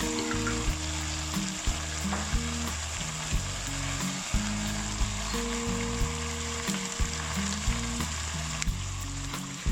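Pumpkin and egg stir-frying in a pan with oyster sauce and sugar, a steady sizzle and frying hiss running throughout with repeated rhythmic scrapes and stirring clatters, close and alone with no talking.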